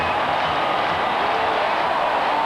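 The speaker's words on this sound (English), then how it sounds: "And that has absolutely electrified the crowd." A packed stadium crowd roars after a 94-yard kickoff return touchdown at a 1997 NFL game between the Buffalo Bills and Kansas City Chiefs, a loud, steady wash of cheering with no break.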